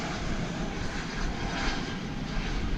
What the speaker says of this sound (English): Delta plane coming.